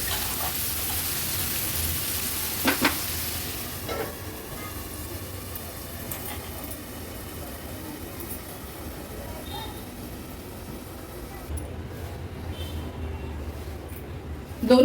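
Chopped onions cook in a pan over a low gas flame, giving a steady, soft sizzle and crackle that runs throughout, with faint clatter now and then and a brief clunk at the very end.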